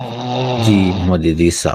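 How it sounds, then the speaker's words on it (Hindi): A live stream caller snores in one long, rumbling, drawn-out breath that ends in a short snort, loud and close, with a voice speaking over the end. "क्या ये खर्राटे की आवाज थी यार?"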